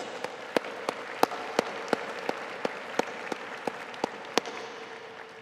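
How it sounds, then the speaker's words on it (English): Applause at a university diploma and awards ceremony, heard as a steady crowd clapping wash with a dozen sharper individual claps standing out at regular intervals, fairly distant and without talk. "Please join me giving them a round of applause."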